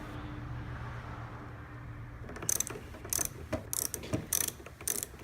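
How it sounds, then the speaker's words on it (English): A ratchet loosens the nut on a car battery terminal clamp, a quick series of close, crisp clicking strokes that follows a quiet hum. "So what we're gonna do is loosen off the nut"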